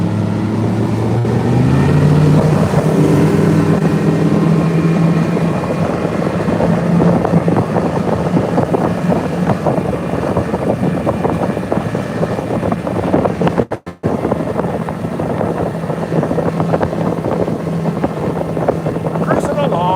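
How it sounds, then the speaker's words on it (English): A fishing boat cruises down a lake at about 36 mph, its outboard motor droning loud and steady under rushing wind and water noise, with someone talking over it. "I'm just going to kind of cruise down the lake for a minute."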